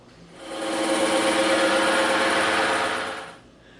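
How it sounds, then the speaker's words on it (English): Bandsaw slicing through EVA foam for a prop phaser: a steady, loud whining buzz rises within half a second, holds for about three seconds, then fades as the cut finishes, with no talking. "So we're going to go hit both of these on the bandsaw."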